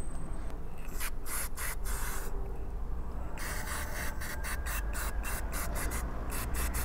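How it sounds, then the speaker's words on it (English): A cloth wipes a motorcycle brake caliper after brake cleaner spray, giving rapid, rhythmic rubbing strokes in short bursts with a brief pause, close and dry-sounding with no talk. "then I'm going to use a cloth to get the rest of it"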